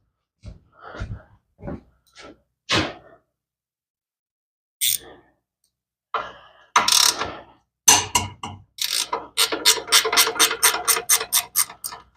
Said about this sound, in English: take that bolt loose